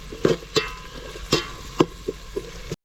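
Onions fry in oil in a pan for a rice biriyani, with a low sizzle beneath a series of sharp scraping clicks from stirring, repeated roughly every half second, close and moderately loud.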